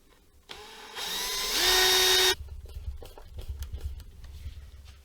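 A power drill drives screws into a soft guitar body, whirring steadily for a second or two and rising in pitch before it stops. Clicks and handling noises follow.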